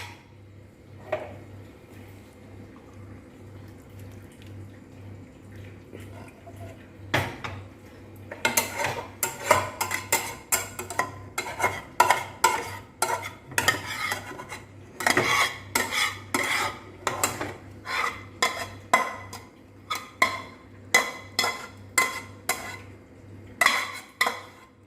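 A metal spoon scrapes and clinks against a pan and plate while sesame paneer is served out, starting quietly and then turning into dense, busy clatter and scraping, close by, with no talking.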